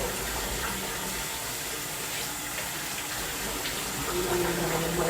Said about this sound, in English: now I'm just gonna rinse with salt water